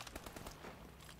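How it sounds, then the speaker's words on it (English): Rapid bursts of gunfire from Call of Duty: Advanced Warfare, dense and continuous like a fusillade, heard at moderate level without talk. "They just said no one fires, and then I hear gunfire."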